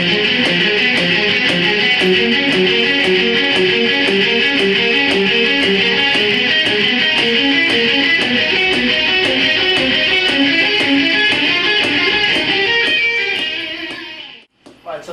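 Slow two-string guitar arpeggios picked in a down, down, up pattern as triplets, with steady, evenly spaced notes ringing out clearly and close before stopping abruptly.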